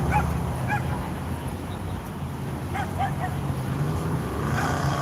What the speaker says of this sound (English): We have some dogs out here.